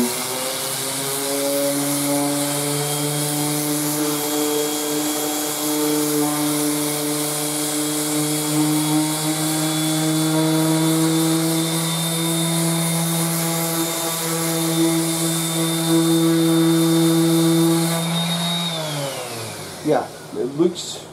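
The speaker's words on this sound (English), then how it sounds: "let me sand a bit of this and see what's going on" A power sander with 80 grit paper works on a Honduran mahogany bass neck blank, giving a steady loud droning whine for about eighteen seconds that winds down at the end, followed by a few knocks.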